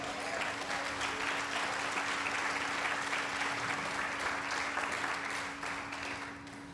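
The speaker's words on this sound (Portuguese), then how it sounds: "Você pode aplaudir ao Senhor" A church congregation applauds during a Portuguese-language sermon, sustained dense clapping over a low steady hum, fading slightly toward the end of nearly seven seconds.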